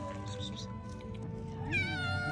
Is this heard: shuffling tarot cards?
no